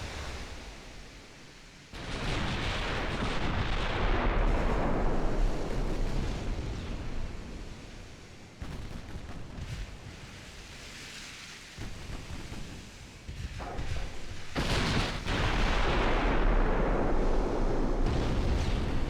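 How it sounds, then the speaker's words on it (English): Naval 6-inch secondary guns fire in a warship battle video game, heavy rumbling booms rolling into one another in long, loud, dense waves with no talk. "Secondary is now also opening up. We got a lot of 6-inch guns on this."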